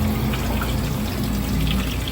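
Hot water pouring steadily from an outdoor tap on a 34 ft Coleman camper, a continuous close gushing splash with no voices.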